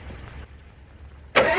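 A full-size RC truck's engine cranks and catches near the end, a sudden loud burst of running engine after a low rumbling lead-in, no voices.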